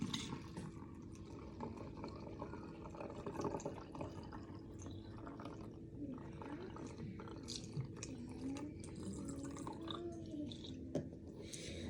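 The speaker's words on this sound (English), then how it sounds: "So go ahead and tip it in your bottle." A homemade rosemary and clove hair liquid being poured into a bottle, a faint, continuous trickle and soft dripping under a low background hum, with no one speaking.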